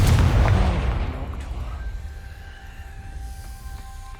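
A Confringo fire spell blasts in Hogwarts Legacy with one sharp, close explosion that decays into a fading rumble, leaving faint lingering tones.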